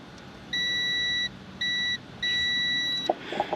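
A multimeter in continuity mode gives three clean, steady beeps, short, shorter, then longest, close to the microphone during a 2017 Ford Escape AC repair, followed by faint clicks.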